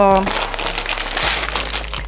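Loud, close crinkling of a plastic bag holding model kit parts, a continuous crackle over a low hum with a voice briefly heard at the start.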